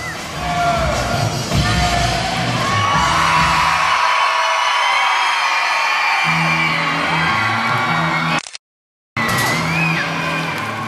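Sideshow audience screaming and whooping on cue during a lifting stunt, a loud, sustained crowd roar lasting several seconds that cuts off into a brief silence and then resumes with more cheering.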